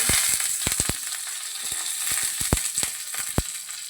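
Mustard seeds, dried red chilies and curry leaves sizzle in hot oil for a Kerala plantain and cowpea erissery, with sharp seed pops and crackles bursting irregularly over a steady close hiss.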